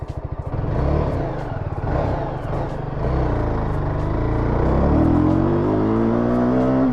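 A Yezdi Scrambler motorcycle climbs through hill roads, its engine thrumming steadily and then revving higher, loud and close with wind rush throughout.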